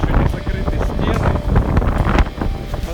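Hurricane-force wind battering an unfinished frame-house building site in Crimea, with open walls and torn insulation membrane; a loud, continuous buffeting roar of gusts hitting the microphone throughout.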